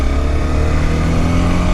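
A Honda CBR250R motorcycle engine runs loud and close, holding a steady, throaty rev with no pauses, heard alone during a test ride.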